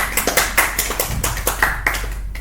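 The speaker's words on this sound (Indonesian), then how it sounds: "Jadi mari kita tepuk tangan." A school Scout delegation's audience claps hands in a quick, uneven burst of loud, close claps that carry on without a break.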